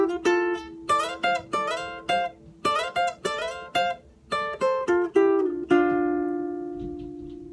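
Solo guitar plays a phrase from an Ecuadorian albazo, a run of plucked notes with slides that ends on a ringing, sustained note. It is close and clear, with no voices.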